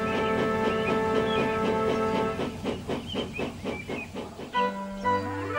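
A passenger steam train pulls away, with sustained whistle-like tones and hissing steam giving way to rhythmic chuffing that quickens, then a final sharp hiss and shift in tone; no talking.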